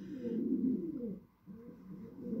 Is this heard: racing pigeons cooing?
yes